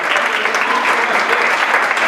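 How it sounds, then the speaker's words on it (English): Another burst of steady, dense clapping from a cabaret show crowd, continuous and fairly loud, with a few voices mixed into the applause. "Give me one more round of applause."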